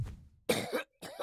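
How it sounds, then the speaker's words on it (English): A male character in Octopath Traveler coughs up blood, with a short burst of harsh, wet coughs followed by a brief pause and another cough, close and clear with no talk over it. "he's coughing up some blood"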